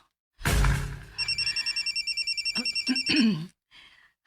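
A telephone rings with an incoming call, a steady run of rapid electronic trills after a short burst of noise, followed by a brief voice and a faint tail as the ringing stops.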